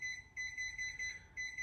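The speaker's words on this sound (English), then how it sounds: "There's that damn thing telling me the battery's dead. I already know it's dead. Quit beeping." A low battery warning beep sounds as a high, thin electronic tone in short repeated pulses, steady and fairly quiet.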